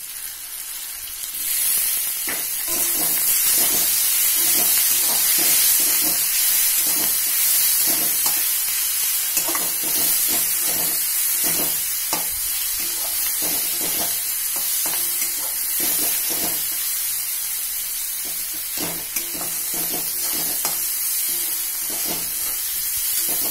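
Onion and tomato frying in a pan for an echor chingri (jackfruit and prawn) curry, with a constant close sizzle and hiss and the soft scrapes of stirring throughout, and no talking.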